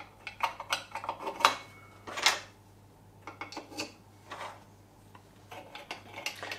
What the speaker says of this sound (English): Let's put the pot supports on, get some paraffin in the stove and get it lit.